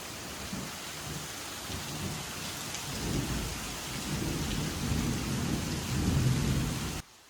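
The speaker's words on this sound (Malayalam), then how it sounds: "നല്ല മഴയും ഇടിയും ഒക്കെ ഉണ്ട്." Heavy rain pours steadily while low thunder rumbles and swells through the downpour, then the sound cuts off abruptly.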